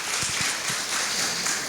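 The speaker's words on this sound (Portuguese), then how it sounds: "Muitos aplausos para vocês," Brief burst of audience applause at a FUCAPI academic event, a dense, even wash of many hands clapping that fills the short stretch without any speech.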